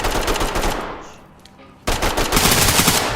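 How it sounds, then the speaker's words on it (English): Bursts of automatic gunfire in the S.W.A.T video game crackle loudly, with a brief lull before another heavy, rapid volley. "Hear gunshots out to the right."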